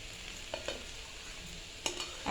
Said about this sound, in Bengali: এখন নাড়াচাড়া হচ্ছে, ভাজা ভাজা হচ্ছে